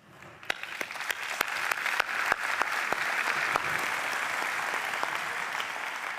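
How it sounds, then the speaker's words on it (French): Audience applause at a plenary conference session, starting with a few scattered individual claps that quickly swell into steady, moderately loud clapping from the room, sustained to the end. "ça mérite d'être salué et ça mérite d'être applaudi"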